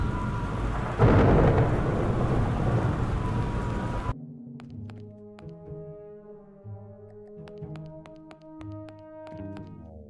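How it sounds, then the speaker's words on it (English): A powerful thunderstorm in the adventure game Bertram Fiddle rumbles with heavy rain and a thunder crash, then cuts abruptly to sparse musical plucks and tones. "There is a storm coming. This is a particularly powerful storm."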